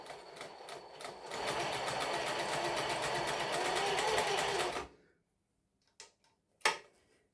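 A Singer 20U industrial sewing machine runs steadily while sewing a zigzag stitch, a loud, close, rapid rattling whir for about five seconds that then stops, followed by a couple of sharp mechanical clicks.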